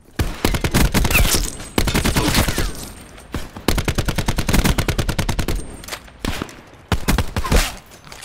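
Fast bursts of automatic gunfire in Call of Duty Black Ops 4, loud and close, coming in several sharp rattling volleys separated by short pauses, with no talking over them.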